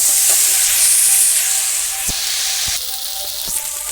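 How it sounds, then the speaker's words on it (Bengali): Spice paste sautéed with cauliflower and potato for a tilapia curry in a village kitchen: loud, steady close sizzle and steamy hiss, broken by a few sharp stirring scrapes and knocks, with no talk. "এরকম মশলা দিয়ে দিয়েছি, এখন মশলাটা দিয়ে কষাবো।"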